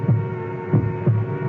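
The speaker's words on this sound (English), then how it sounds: "It's my heart beating." A heartbeat sound effect from a radio mystery drama, with low, muffled thumps in a slow, steady rhythm over a faint hum, close and alone.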